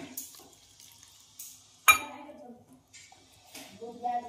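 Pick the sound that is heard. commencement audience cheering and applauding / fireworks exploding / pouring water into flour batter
pouring water into flour batter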